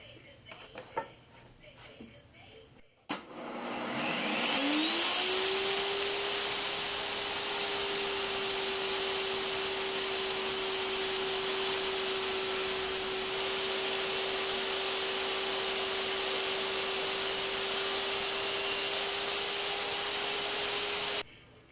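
Power tool spinning up and running steadily while cutting 1/4-inch polyethylene plastic, a loud constant high whine with a steady hum after a few seconds of quieter workshop noise.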